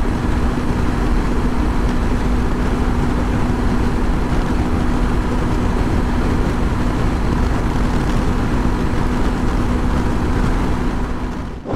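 A fully loaded Honda CB500X 500cc motorcycle at full throttle on a highway, a steady, loud engine drone blended with heavy wind rush throughout.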